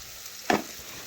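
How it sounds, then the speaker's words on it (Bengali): Onions and a bay leaf frying in a pan, with a soft steady sizzle and one brief louder burst of crackle midway, close up and with no talking. "পেঁয়াজ ভালোভাবে ভাজা হয়ে গেছে"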